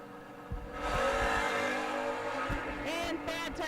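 A 1972 Camaro door car makes a drag race run, its engine roaring loud and steady for several seconds, with a rising whine near the end and a faint voice underneath.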